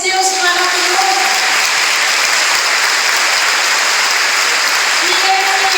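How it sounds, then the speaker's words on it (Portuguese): Steady applause from a church group audience, dense and continuous throughout, with faint singing or voices drifting in at the start and end. "Vamos aplaudir esse Deus maravilhoso."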